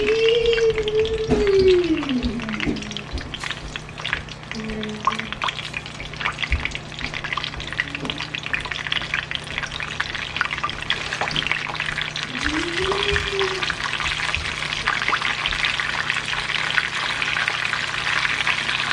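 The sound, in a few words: chicken browning in a frying pan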